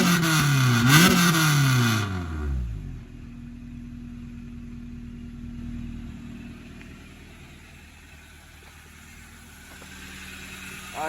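Honda Civic Si with a swapped K20Z1 engine revving hard, a rising and falling whine peaking in the first two seconds, then settling into a low steady idle rumble.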